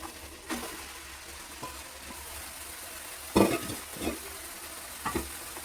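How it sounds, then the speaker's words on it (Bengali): Bottle gourd tipped into a pan of sizzling fried prawns, a steady crackling fry with a loud splashy burst midway and a few sharp stirring clinks, no talk. "চিংড়ি মাছ সাঁতলানো হয়ে গেল, এবার লাউটা ঢেলে দিচ্ছি"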